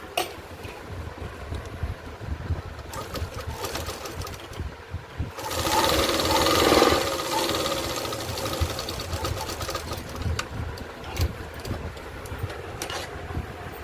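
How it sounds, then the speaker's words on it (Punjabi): A sewing machine stitching a palazzo runs steadily for several seconds, its motor swelling louder near the middle before settling back to a close, even whirr, with no talking. "ਫਿਰ ਸਿਲਾਈ ਲਗਾ ਲਾਂਗੇ"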